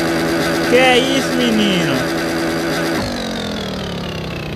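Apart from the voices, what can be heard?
Honda Hornet motorcycle engine revving during a wheelie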